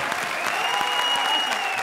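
A studio audience at a televised Hindi comedy show gives steady, lively applause, many hands clapping at close range throughout with no one talking over it.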